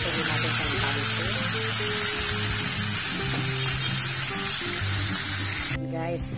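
Chopped chicken pieces for chicken sinigang sizzle loudly and steadily in a hot frying pan, with a spoon stirring and scraping through them, before the frying drops off sharply near the end.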